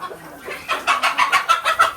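Hens clucking in a rhythmic series of short, rising, close-up clucks, about half a dozen in quick succession after a quieter start.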